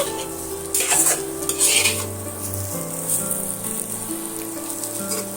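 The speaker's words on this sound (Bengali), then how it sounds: "আলুর সঙ্গে হলুদ আর লঙ্কা গুঁড়োটা এইভাবে আরও দু মিনিটের মতন ভাজা ভাজা করে নেব" Potatoes frying with turmeric and chili powder while being stirred, loud sizzling with repeated scraping and clinking of a utensil against the pan for the whole stretch, no talking.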